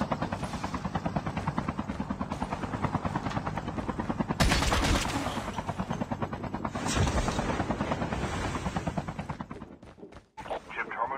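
A helicopter's steady rotor thump fills a Call of Duty Mobile battle royale match, loud and continuous, with bursts of gunfire layered over it.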